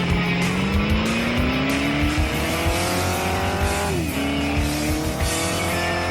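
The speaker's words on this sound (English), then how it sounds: "It sounds like a muscle car, too." Muscle car engine revving in the Test Drive: Eve of Destruction video game, a loud steady roar whose pitch climbs gradually, dips sharply, then holds, with faint tire squeal, no talk.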